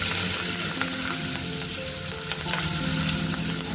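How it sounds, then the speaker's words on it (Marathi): Cumin, mustard seeds, turmeric and curry leaves crackle and sizzle steadily in hot oil for a tempering for drumstick curry, a close, continuous frying hiss with scattered pops and no voices. "आता फोडणीमध्ये आपण एक चमचा जिरे टाकू, एक चमचा मोहरी टाकू, एक चमचा हळद टाकू"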